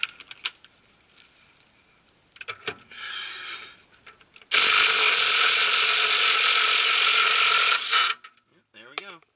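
A loud power tool whines steadily for several seconds while cutting off a stuck cotter pin on the steering tie rods of a 1988 Ford F-150, preceded by short mechanical clicks and brief bursts of the tool.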